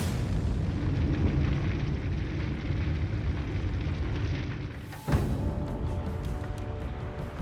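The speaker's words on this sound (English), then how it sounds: "Now imagine more than a dozen of these explosions going off all over the city." A deep, sustained roar rumbles continuously, then a sharp blast cracks out near the end, followed by lingering rumbling and crackling debris.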